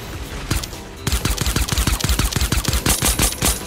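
Rapid automatic gunfire in the Fortnite battle royale video game, a loud, steady stream of closely spaced shots after a brief lull, with a few sharper cracks near the end and no talk.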